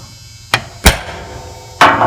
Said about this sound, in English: time to center punch the back